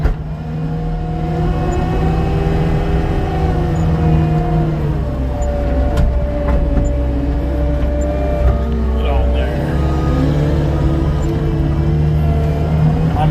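Heavy machine engine running steadily in high gear while sorting logs, a loud continuous low drone with shifting tonal whine that rises and falls slightly as the machine works.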